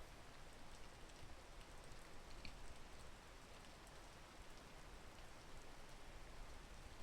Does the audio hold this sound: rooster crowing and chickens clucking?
no